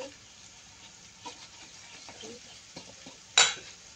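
Eggs being stirred with coriander and ginger powder in a pan: soft, faint scraping strokes with a few light taps, then one sharper metallic clink near the end, in a quiet kitchen.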